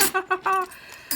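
A few quick metallic clinks and jingles of metal crochet hooks knocking together, close up, then a brief pause and one more clink.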